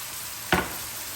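Chicken seasoned with salt and black pepper frying in a pan gives one short, sharp burst of sizzle that rises out of a quiet background and fades quickly.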